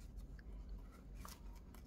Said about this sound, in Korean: 이제 가위로 잘라주시면 되겠습니다